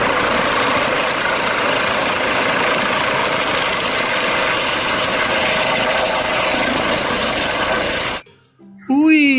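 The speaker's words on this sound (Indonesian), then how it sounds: "Ada helikopter." A toy helicopter gives off a loud, steady electronic whirring rotor drone that runs unbroken for about eight seconds and then cuts out abruptly, followed by a brief voice.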